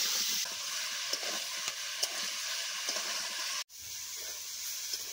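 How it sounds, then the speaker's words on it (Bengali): Cubed potatoes and raw banana fry in oil with salt and turmeric, giving a steady, soft sizzle with light stirring scrapes, briefly cut off near the end before the sizzle resumes. "এখন 2-3 মিনিট ভালোভাবে ভেজে নিব।"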